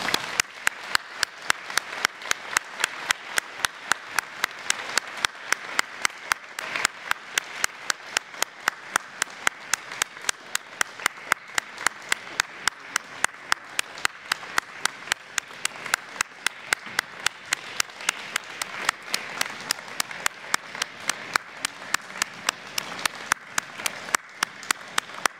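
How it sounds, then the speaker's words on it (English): Audience applause for National Honor Society members at a high school induction ceremony, a long, even round of crisp clapping that carries on steadily for about twenty-five seconds without speech. "Let's have a round of applause for the NHS present members."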